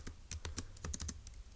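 Keys clatter on a computer keyboard in a quick run of about a dozen close, crisp taps, irregularly spaced and without any voice.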